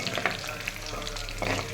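Putnala pappu, roasted gram dal, being roasted and stirred in a pan, a steady close dry sizzle with scraping stir strokes throughout, no talk.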